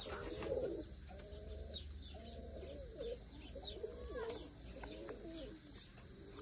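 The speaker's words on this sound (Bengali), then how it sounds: "কবুতর" Pigeons of a fancy breed coo repeatedly at close range, soft rolling calls overlapping one another against a faint steady hiss, with an occasional chirp and brief wing flutter.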